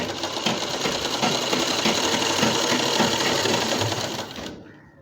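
A sewing machine stitches a folded hem on a dupatta in one steady, close, loud whirring run with a fast mechanical chatter, then cuts off abruptly near the end.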